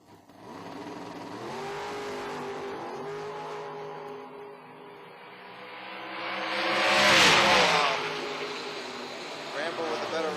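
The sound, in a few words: 55 Chevy and dragster drag racing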